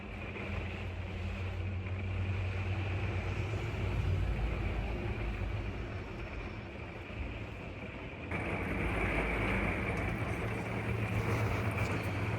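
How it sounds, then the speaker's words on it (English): Heavy rain pours down on an RV during a storm, a steady, dense roar of water that fills the whole stretch without pause, loud and close, with no voices. "Sheets of water coming down."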